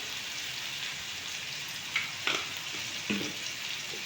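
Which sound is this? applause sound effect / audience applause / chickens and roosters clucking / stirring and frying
stirring and frying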